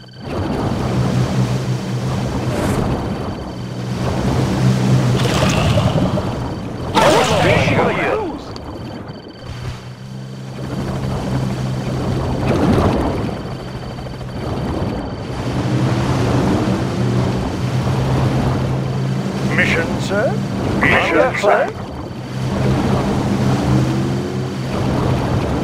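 Naval vessel engines run in the Red Alert 2 strategy game, a steady low rumble with a watery wash that carries on throughout, broken by brief louder bursts of game effects.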